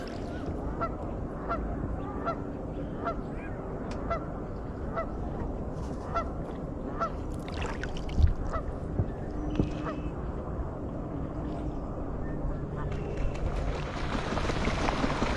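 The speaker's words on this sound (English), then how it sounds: "There's the geese." Repeated goose honks ring out over a steady rumble of water, calls coming in irregular bursts at moderate distance, heard from a kayak on the Provo River.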